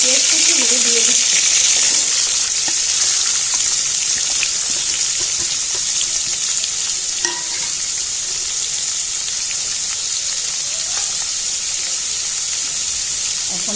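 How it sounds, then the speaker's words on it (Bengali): Chopped onions frying in hot oil in a wok with whole spices, a steady hiss that starts loud and settles into a constant sizzle, with a few stirring knocks and a faint voice briefly. "এখন পেঁয়াজ কুচিগুলো দিয়ে দিচ্ছি।"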